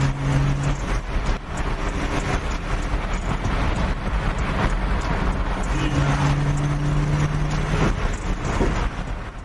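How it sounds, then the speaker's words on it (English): Chevrolet Impala, in third gear with the pedal to the floor, gives a steady, loud engine roar that holds throughout without letup, and a low droning hum rises briefly twice against it. "Let's press the gas to the floor now, just look at the dynamics."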